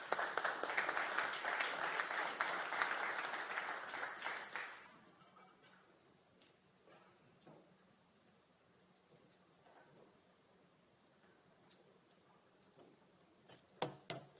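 An audience at an Icelandic public meeting on adapting to a changing world claps for Karl Björnsson, director of the Association of Icelandic Municipalities. The loud, dense applause lasts several seconds, then fades into a quiet room with scattered faint noises.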